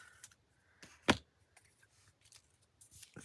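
Scissors trimming a female figure out of paper for fall-leaves index card art, giving a few quiet snips and one sharp, louder cut in a calm room with no talking.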